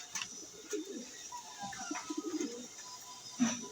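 Soft, low cooing from pigeons repeats in short bursts, with a faint chirp or two over quiet outdoor background.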